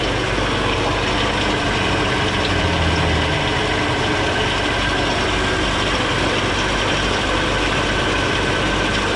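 Steady idling engine with a beer-can patch on the muffler, plus whine from the water pump and fan belt train, rumbling continuously and fairly loud throughout with no talking.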